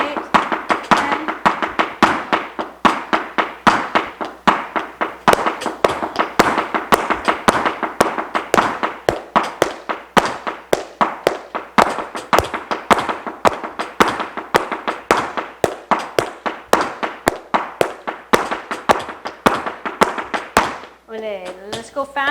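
Flamenco footwork on a floor: rapid, even streams of sharp heel and toe strikes with accents, close and crisp, continuing for a long stretch before a voice briefly speaks at the end.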